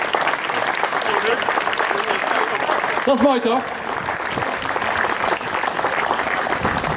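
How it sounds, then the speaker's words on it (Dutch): Audience applause at a centenary celebration as a special medal is presented, dense steady clapping filling the whole stretch, with a brief voice speaking over it midway. "Geef ze een geweldig applaus."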